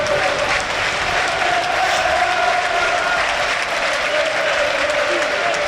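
Thick, constant roar from the stands at a Burnley v Blackburn Championship football match, with a chant swelling within the crowd noise and no break in volume.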